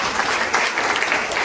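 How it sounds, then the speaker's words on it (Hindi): A church congregation claps together during a Hindi-language Christian sermon, a dense, even burst of applause from many hands heard close and sustained. "ताली बजाओ, तारीफ करो"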